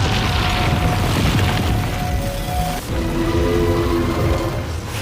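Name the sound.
giant bullet fired, explosion effect in anime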